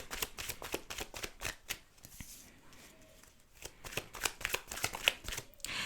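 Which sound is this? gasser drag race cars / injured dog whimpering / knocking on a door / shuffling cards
shuffling cards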